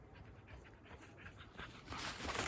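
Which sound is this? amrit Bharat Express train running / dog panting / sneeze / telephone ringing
dog panting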